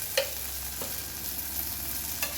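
A quiet, steady frying hiss of okra in a pan, with a few soft scraping strokes as it is stirred, no voices.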